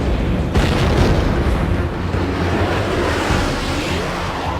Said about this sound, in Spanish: Escuchamos los proyectiles golpear.